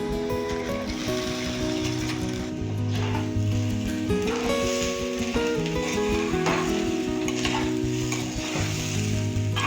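Soaked, washed rice and lentils fry together for Bengali bhog khichuri, giving a steady loud sizzle with scraping stirs. Tonal music runs underneath throughout.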